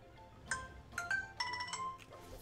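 A phone ringtone plays a short bright melodic pattern of chiming tones in quick bursts, fairly quiet and alone.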